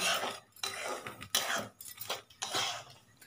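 Semolina (suji) is dry-fried in a kadhai, with a spatula scraping and stirring through it in quick, rough bursts separated by short pauses, close and fairly quiet.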